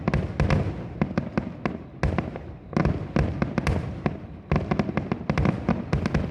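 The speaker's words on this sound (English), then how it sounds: "some of these fireworks were absolutely huge." Large fireworks burst in Japan in quick, irregular succession, sharp loud cracks and booms following one another with brief gaps, some in rapid clusters.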